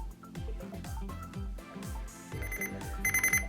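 A kitchen timer goes off after 15 minutes while bread dough rests in a mixer. It repeats a rapid series of warbling electronic beeps and chirps, clear and fairly close, with no talking.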